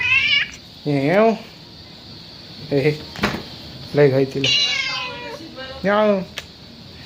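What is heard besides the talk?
cat meowing loudly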